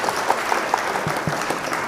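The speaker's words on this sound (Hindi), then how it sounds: "जोरदार तालियों से इस्तकबाल कीजिए जनाब" An audience at a Kulhind mushaira breaks into applause welcoming poet Khalid Aazmi to the microphone, a steady patter of many hands clapping at moderate distance, with no voices over it.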